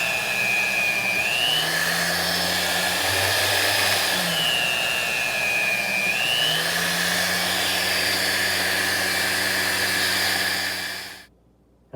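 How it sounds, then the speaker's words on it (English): A 36-year-old meat slicer cuts charcoal-smoked roast beef, producing a steady whirring motor hum with rising and falling tonal sweeps as the blade passes through, close and loud, then cutting off at the end. "let's get her on that 36-year-old slicer"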